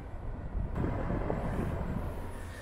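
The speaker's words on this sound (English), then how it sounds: "Coming around to the front to see how loud the mini split sounds outside, this is the sound of it." Continuous low droning hum of a mini split air conditioner's outdoor unit running nearby, steady and moderately loud with some wind rumble.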